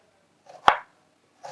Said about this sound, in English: When you're chopping the onions